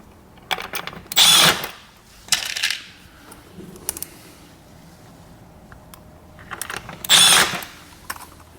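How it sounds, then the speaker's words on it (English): Milwaukee Surge driver on setting 2 runs a screw into a plastic drawer, two short loud bursts of whirring a few seconds apart with quieter clicks between, close up and alone. "This is the Milwaukee Surge tool, which is perfect for this. I have it on setting number 2, so you won't over tighten into the plastic"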